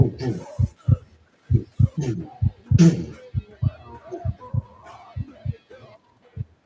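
A heartbeat sound effect in a game, steady double thumps repeating at a regular pace, loud and close while a person talks over it throughout.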